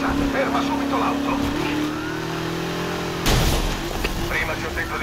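Car engine roaring and revving during a police chase after a Ford Mustang in Need for Speed Heat, a steady loud drone with a shift in pitch and a sudden burst of louder noise midway.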